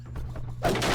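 Gunfire in Half-Life 2: Episode Two, a single short loud burst of shots lasting about a second, with a dense blast of noise that swells in the second half and no talk.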